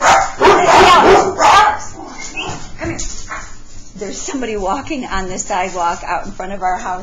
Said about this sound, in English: That was the big, deep bark dog you heard.